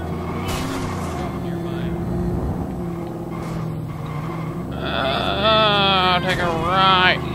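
Video game car engine in Watch Dogs, a Camaro-like muscle car, droning steadily under music and game sounds, then rising as it accelerates with a revving whine toward the end.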